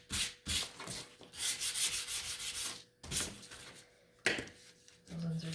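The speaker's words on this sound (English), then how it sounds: "you can just go and sand all the rest of your pieces" Wooden pieces of a spring sign being hand sanded give close, steady rasping strokes in bursts with brief pauses, plus a knock near the end.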